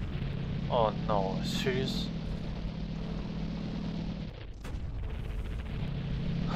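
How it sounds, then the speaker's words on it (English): Tank cannon fire in the tank game Sprocket: one sharp, heavy boom about two-thirds through, over a steady engine rumble, with a brief startled voice just before it. "Someone is shooting."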